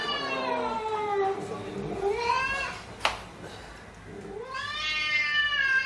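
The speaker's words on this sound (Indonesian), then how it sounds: "tak lama kucing datang dan memarahinya" A cat meows and caterwauls while scolding a dog, with long drawn-out wailing cries, a brief pause, then another loud yowl. Close and clear, with no talk over it.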